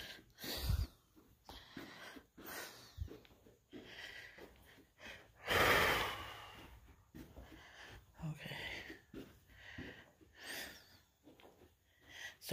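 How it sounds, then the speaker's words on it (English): Heavy, labored breathing of a person with asthma inside a funeral home, close and fairly quiet, with uneven gasping inhales and exhales repeating through the clip and one louder rasping breath midway. "Sorry about my breathing."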